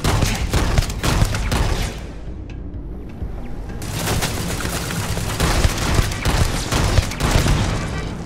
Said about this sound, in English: this solstice is really slow firing